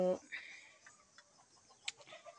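Chickens cluck faintly in short, scattered bursts against a quiet background, with a brief louder squawk partway through.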